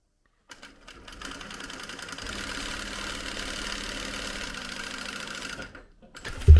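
A sewing machine runs steadily for about four seconds, stitching down the under-placket of a button fly on a garment, with a short start, a continuous mechanical whir and a stop at the end.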